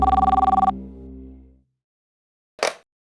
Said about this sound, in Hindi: आपके घर से कामाली बाई का फोन है।